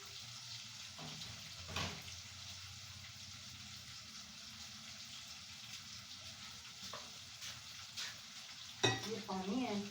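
Sliced onions fry in ghee in a home kitchen pot, a soft continuous sizzle with occasional stirring clatter and a brief metallic clink near the end.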